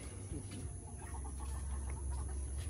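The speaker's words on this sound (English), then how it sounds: "These chickens are good thieves." Chickens clucking around a rural Filipino province home during wedding food preparation, a steady low murmur of soft clucks over a constant low background hum, moderately near.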